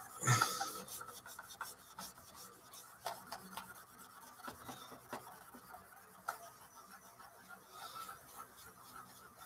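Sanding and rubbing down a plastic model kit part by hand, with an irregular series of soft, close rasping strokes and occasional light clicks, fairly quiet throughout with no talk.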